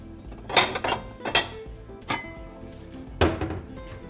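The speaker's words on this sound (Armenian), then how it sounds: "Ինձ հարկավոր է ջեռոցի տապակը։" A metal oven baking tray clatters as it is pulled out and handled in a home kitchen during cooking, giving a few sharp clanks and scrapes spread across a few seconds, fairly close and with no talking.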